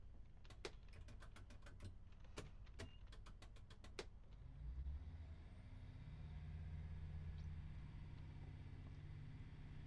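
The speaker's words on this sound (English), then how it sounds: "So you heard that rev, and then the rev settle, and then the power goes in. That's the gearbox filling." An AP158 train engine in Train Simulator 2022 on the Huddersfield Line revs as the gearbox fills. A burst of sharp clicks comes first, then a deep engine rumble swells and holds steady and fairly loud.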